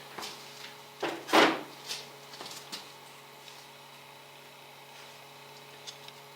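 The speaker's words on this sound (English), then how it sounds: "we're going to use our little adapter here. And we're going to take these 2 bolts off" Metal clanks and ratcheting clicks from a socket wrench with an adapter as two 10mm battery bolts come off a Suzuki DR650 motorcycle. A cluster of knocks lands early, then the sounds fade to a low steady hum.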